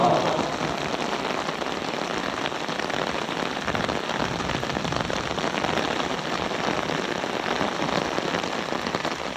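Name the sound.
rain falling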